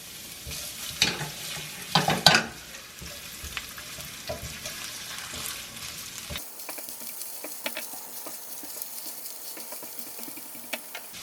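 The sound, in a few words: ginger frying in hot oil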